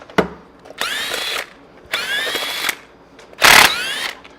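An impact gun removes the primary cover bolts on a Harley Big Twin Evo in three loud, close bursts of whirring and rattling, each lasting roughly half a second to a second, separated by short pauses.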